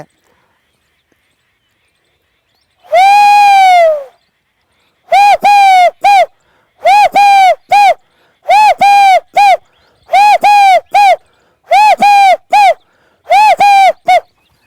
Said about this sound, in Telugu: దీని తర్వాత ఒక పక్షి ఎలా పలకరిస్తుందంటే